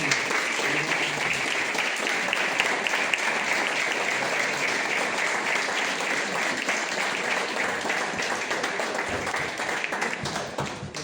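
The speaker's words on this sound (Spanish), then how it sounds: "con un inmenso aplauso" Sustained, dense applause from an audience at a municipal ceremony honouring a journalist with a commemorative plaque, steady and loud throughout with no voices standing out.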